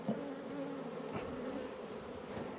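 Honey bees buzz steadily at an open hive on a very hot day during an apiary inspection, forming a dense, continuous drone with a few individual bees passing close by.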